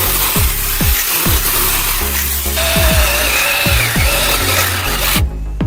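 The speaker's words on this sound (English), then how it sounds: "we're gonna test out this cordless mini chainsaw, 4-inch" A battery-powered 4-inch mini chainsaw's high whine grinding through wood, with repeated short clunks and bursts as the chain bites, then stopping abruptly.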